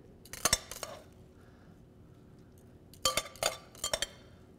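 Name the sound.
tossing a salad with potato croutons, eggs and tomatoes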